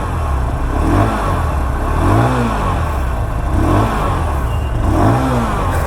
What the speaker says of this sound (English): let me give a bit of a throttle